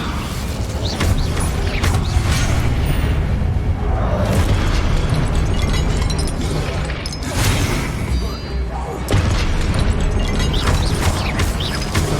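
Spell effects in Hogwarts Legacy: a string of whooshing bursts, crackling blasts and rumbling impacts arrives every few seconds over a constant low magical drone, loud and near, while a voice calls out incantations.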